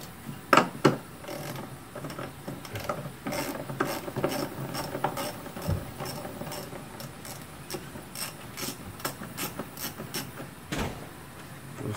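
Ratchet with a 5/16 socket loosening bolts on the throttle body of a 2010 Dodge Caliber SXT, a long series of rapid clicking bursts with metallic knocks, close and steady.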